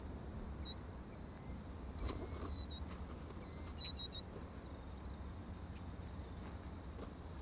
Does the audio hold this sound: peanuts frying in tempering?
no